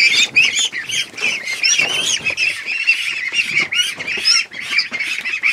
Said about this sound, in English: Let me grab one of these ducklings, though, so you guys can see how big they are.